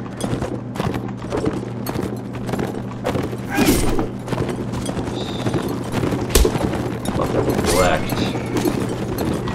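Horses gallop across a battlefield in the video game Mount and Blade Warband, a steady drumming of hooves with occasional heavy thuds and a whinny, continuing under a voice talking throughout.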